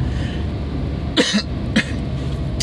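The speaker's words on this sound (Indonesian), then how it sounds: "Saya sampai batuk-batuk ini" Two short coughs over a steady rumble of road noise, the second a little softer, with a faint vehicle hum throughout.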